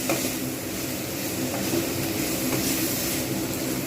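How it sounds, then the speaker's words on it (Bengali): Cauliflower and potato frying in a pan with chili and turmeric powder, a loud dense sizzle with stirring noise running steadily throughout, no voices. "এইবার আমি এতে লঙ্কা গুঁড়ো, হলুদ গুঁড়োটা আমি এতে দিয়ে দেবো, ভালো করে ভেজে নেবো।"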